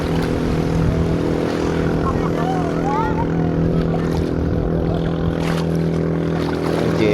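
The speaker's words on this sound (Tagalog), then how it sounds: "Jet ski." A steady jet ski engine drone hums throughout close by at a beachfront resort in Subic, Zambales, with faint voices in the background.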